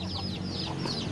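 Young chickens in a coop give soft, repeated clucks and chirps over a steady low hum, continuous and fairly close with no talking.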